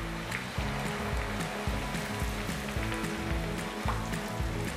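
Cooking oil sizzles steadily in a pan as food fries for a restaurant-style Mughlai cheese dish, a continuous close hiss with faint scattered pops and no talking.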